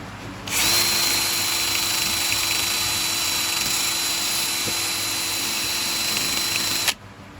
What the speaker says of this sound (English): a barrel sander attached to a drill is the only way to do this sanding process